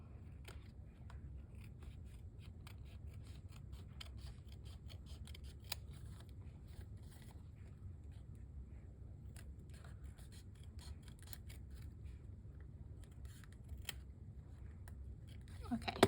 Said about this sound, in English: I might have to trim it a little